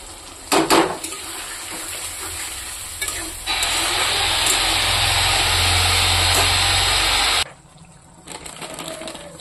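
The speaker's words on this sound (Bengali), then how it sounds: "সাথে এই যে করে রেখেছি জিরা, কাঁচা লঙ্কা, আদা, এটা দিয়ে দেবো। এই টমেটোর সাথে একটু ভাজবো।" Tomato frying in a pan with cumin, green chili and ginger added, a loud steady sizzle that swells for several seconds after a few stirring clatters, then cuts out to a quieter scrape.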